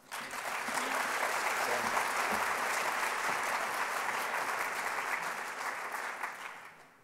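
A crowd in a lecture hall applauds steadily for about seven seconds to welcome Dr. Roger Hart, a dense, even wash of clapping that fades at the end.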